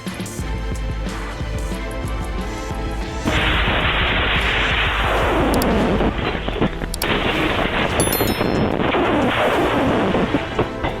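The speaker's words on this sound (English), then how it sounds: "A slight collision turned it into a living torch, creating a terrible explosion and a brilliant flare on the highway." A sudden huge blast and roaring burst of crackling explosions as a truck carrying fireworks explodes on a highway, loud and sustained, with sharp pops and bangs continuing over rushing road noise.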